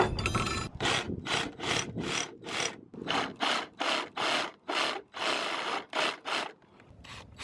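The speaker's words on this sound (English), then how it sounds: "Now we're gonna go to the Sawzall." Sawzall reciprocating saw fitted with a thin blade cutting out a section from a drilled hole during an RV solar kit display install, giving loud rapid rasping strokes in steady bursts with short pauses between them, no talking.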